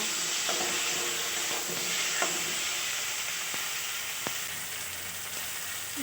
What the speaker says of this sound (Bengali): একটা ছোট আলু কেটে রেখেছিলাম মশলার সঙ্গে একটু ভেজে নেব